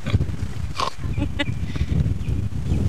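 A person's voice imitates a pig snorting, giving a couple of short nasal snorts amid indoor household noise and low background chatter.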